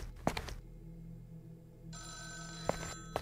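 A telephone rings in a dark house in a Grimace Shake horror video game, with sharp bell bursts at the start and again near the end over a steady low hum and a bright held electronic tone.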